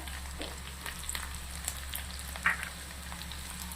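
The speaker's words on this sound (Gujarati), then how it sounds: "હવે આપણે થોડી હિંગ સૂકું મરચું નાખું છું" Asafoetida and dried red chilli pieces sizzle in hot oil for a Rajasthani onion malai sabzi, a steady close crackling fry with a few sharper pops and stirring clicks, no talking.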